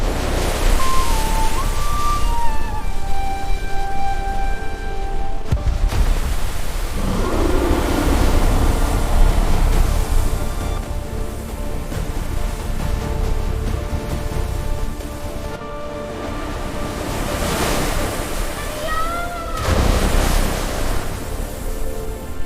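Yamuna river water surging and crashing in a continuous loud rushing roar with swelling waves, under background music tones.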